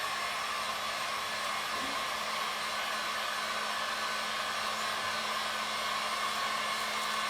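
A heat source, likely a hair dryer or heat gun, warms a thin guitar side of wood before bending, giving a steady, loud, continuous blowing whoosh with a faint motor hum that stays even throughout, with no talking.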